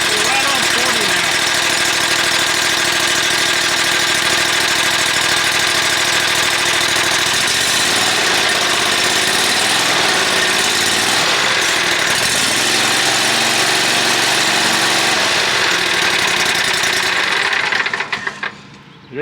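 A zero-turn mower with an EFI engine fires up and settles into a steady, loud idle that runs close to the mic, its tone shifting partway through before cutting off at the end.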